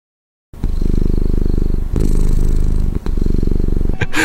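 A person's voice imitating a cat's contented purr, a loud, close, rolling low rumble held in steady stretches with brief breaks between them.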